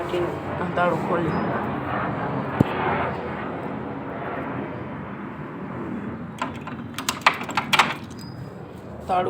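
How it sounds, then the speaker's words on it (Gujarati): A padlock is unlocked with a key, giving a short burst of sharp metallic clicks near the end after a stretch of steady background noise. "તાળું ખુલી ગયું."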